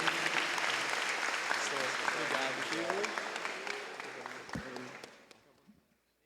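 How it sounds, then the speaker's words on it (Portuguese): A church congregation at a Holy Spirit conference applauds in a dense, sustained burst of clapping that fades out over about five seconds, with a voice audible over it. "Você pode aplaudir a Jesus."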